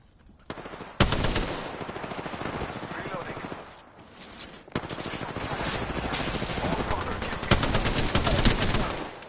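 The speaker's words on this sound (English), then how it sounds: "Getting shot at." Automatic gunfire in Apex Legends, loud close bursts of rapid shots that run for several seconds at a time, broken by brief pauses.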